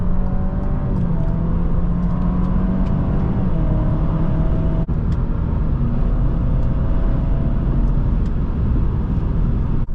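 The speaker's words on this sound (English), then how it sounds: "we're comfortably entering the corner and coming out full throttle" A 2021 Alfa Romeo Giulia Ti accelerates at full throttle out of a corner from about 50 mph, its engine a loud, steady close-up roar with a gradually rising pitch throughout, no talking.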